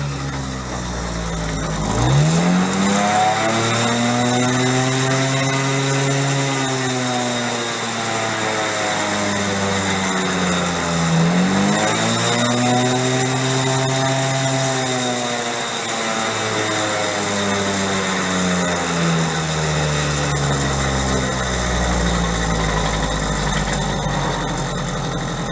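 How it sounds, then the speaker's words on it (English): A small engine on a barn-find moped revs up and down in long, repeated swells, loud and close, with the idle droning steadily between revs. "See if we can rev it up"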